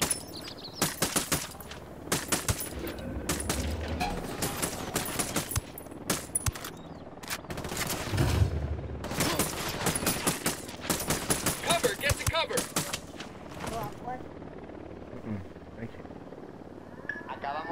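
Video game machine gun fire rattles in repeated bursts over many seconds, heavy and close, mixed with other battle noise and trailing off into quieter rumble at the end.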